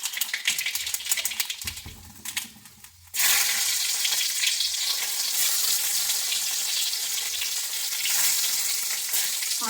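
Oil is poured into a hot pan and fries with a loud, steady sizzle that starts abruptly about a third of the way in and carries on alone, with no talking, in a home kitchen cooking lunch.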